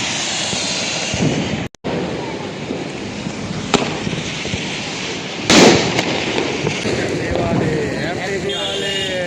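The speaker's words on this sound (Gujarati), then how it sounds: "જો આ બધા ફટાકડા ફોડે છે સરસ મજાના." Firecrackers set off outdoors at a lively gathering: several sharp bangs and crackling bursts ring out close by over a steady background hiss, with people cheering and talking throughout.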